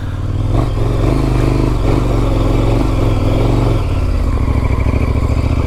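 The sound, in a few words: motorcycle riding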